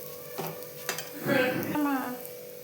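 A spoon stirs salted upma (uppittu) in a hot pan. Close scraping strokes sound over a steady sizzle, with a few sharp clinks against the pan and no talk.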